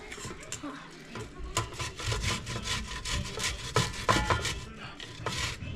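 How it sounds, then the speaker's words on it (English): An onion rubbed back and forth over a box grater in a home kitchen, with rhythmic rasping strokes close by and a voice speaking briefly in the background. "First thing we're going to do is grate an onion in there."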